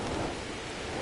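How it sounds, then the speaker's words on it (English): Steady, dense rainfall in a video game fills the moment with a continuous hiss, loud and even throughout, without breaks or distinct drops. "Let me in. It's raining."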